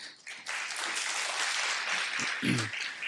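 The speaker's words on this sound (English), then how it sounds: "I think all five of our panelists need a good round of applause." An audience at a Global South economic forum opening applauds five panelists, a dense, steady round of clapping sustained throughout with no speech over it.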